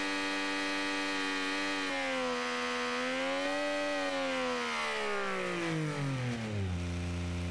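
A custom-built car engine in a video game revs with a buzzy, harmonically rich tone, rising, holding, then sliding back down to idle, loud and close with no talk.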